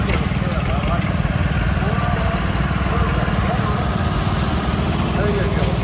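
A John Deere 9600 turbocharged six-cylinder diesel tractor rolls by in an antique machinery parade, its engine a loud, steady, throbbing drone with faint voices mixed in.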